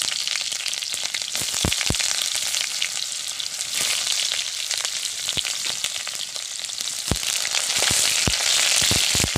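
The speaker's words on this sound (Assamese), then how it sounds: "দেখিছেনে, তেল গৰম হৈ গ'ল। এতিয়া মই দি দিছোঁ পিঁয়াজ।" Onions frying in hot oil for a jackfruit dish crackle in a loud, steady sizzle, with sharp spatters and pops scattered throughout.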